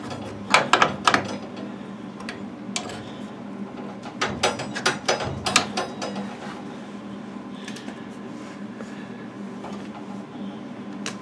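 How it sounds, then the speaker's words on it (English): A ratchet clicks in quick bursts while loosening three bolts on an Easy washing machine, with sharp metallic ticks clustered at the start and again midway, fairly faint over a low background hum. "what I'm doing now is I'm loosening the 3 bolts"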